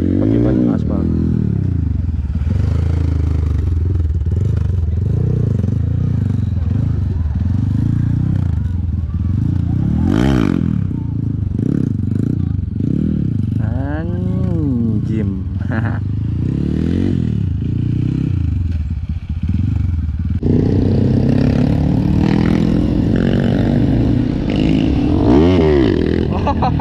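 A Honda CRF bore-up dirt bike on a grasstrack circuit, its engine droning and revving loudly up close throughout, with clattering and wind noise and a rider talking over it.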